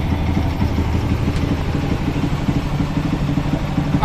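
Kawasaki KLX 140 FI motorcycle engine running steadily on a dyno, a continuous low throbbing drone with a rapid pulsing rhythm, loud and close throughout.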